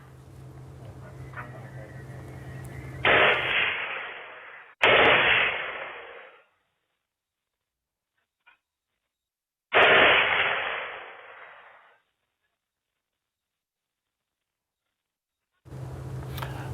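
Three heavy gunshots boom one after another near Ban Prey Chan, Banteay Meanchey province, each with a long rolling echo that fades into silence, followed by a return of background noise.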